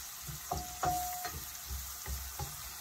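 Baguio string beans sautéing in a pan, a soft steady sizzle with a few scraping stir clicks and a brief tonal ring, fairly quiet and close with no talk.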